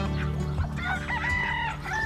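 Chickens on a farm cluck busily while a rooster crows in a long drawn-out call, all close and continuous, with overlapping bird calls throughout.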